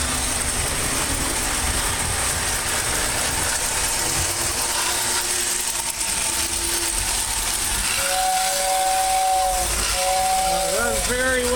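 Model steam locomotive 671 running forward while making smoke: a continuous hiss with mechanical ticking, and several whistle-like tones rising toward the end.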